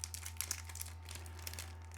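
Dragon Ball Z film card trading pack being torn open by hand without scissors: close, quiet, continuous crinkling and tearing of the foil wrapper, with small crackles throughout over a low steady hum.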